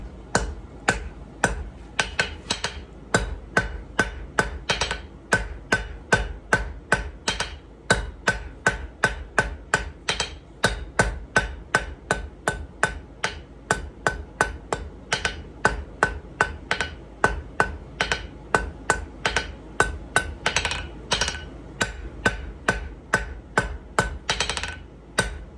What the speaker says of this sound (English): Heat up the end of your bar with half-face blows